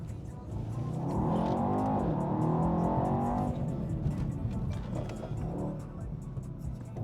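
A Mercedes E63 AMG engine revs loudly and rises in pitch, holding a strong throaty roar before easing off as the car pulls up close.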